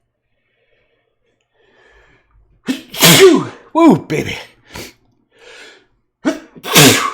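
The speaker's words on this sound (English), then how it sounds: "Gotta sneeze." A loud, close sneeze bursts out after a quiet build-up of breaths, followed by a few more sharp exhalations and a brief spoken exclamation.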